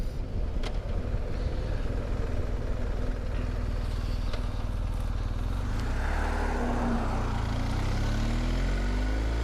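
A BMW R 1250 GS Adventure motorcycle being ridden on the road, a steady loud engine drone with wind rush that shifts pitch partway through, continuous and close, no voices.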